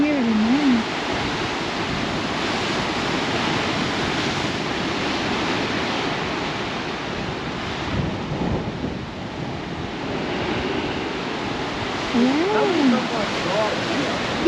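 Water washes and gurgles into little holes at a South Australian campsite, a continuous rushing wash with surging swells, close and fairly loud, with brief whistling tones at the start and end.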